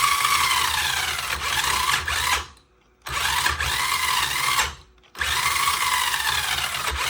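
A Vevor RC truck's electric motor whines steadily at full speed, loud and close, cutting out twice for short silent pauses before spinning back up.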